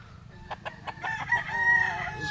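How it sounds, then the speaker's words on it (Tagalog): Roosters crow at dawn in a rural village where many chickens are kept, several calls overlapping in a loud, drawn-out chorus over a low background hum. "tiktilaok ng mga manok ang unang bubungad sa iyo sa maagang"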